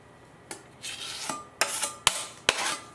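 A putty knife scoops and spreads wood filler, heard as a few distinct close scrapes and dabs, each with a sharp onset, separated by short pauses.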